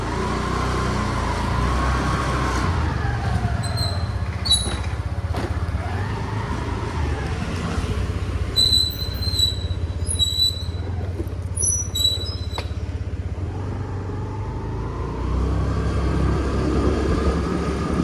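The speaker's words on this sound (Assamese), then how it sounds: "স্কুটি ষ্টাৰ্ট দি ল'লোঁ" A scooter rides along a morning road in Guwahati, its steady low engine and road drone continuous throughout, with a few faint high chirps in the background.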